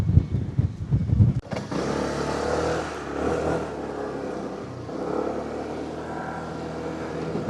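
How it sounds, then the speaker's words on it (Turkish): A Yuki Vampire 125cc motorcycle ridden along, its engine a steady close drone with slight rises in revs, preceded by a few seconds of wind buffeting on the microphone. "Biraz da ben süreceğim motoru."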